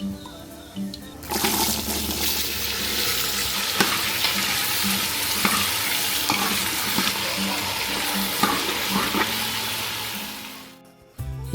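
Tomato and green chilli sizzle and cook down in a pan, a steady broadband frying hiss running loud and close from just after the start, with faint stirring knocks, then cutting off near the end.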